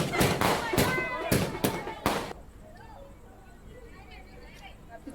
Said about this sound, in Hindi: महिलाओं ने शराब की दुकान को शिफ्ट किए जाने पर प्रशासन को धन्यवाद दिया और जमकर आतिशबाजी भी की।